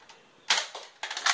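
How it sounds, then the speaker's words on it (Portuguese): Sharp shots in a target shooting game, several quick cracks and clicks in a short burst, close and crisp against a quiet background. "Esse é o quarto tiro."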